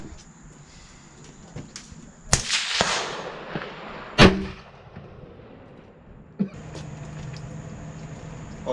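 A 45-70 rifle loaded with black powder fires a couple of sharp, loud reports outdoors at a shooting range, each followed by a short decay, over a steady background hum.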